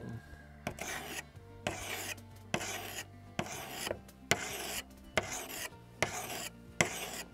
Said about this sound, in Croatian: Kod ovih je možda čak lakše brusiti od sebe.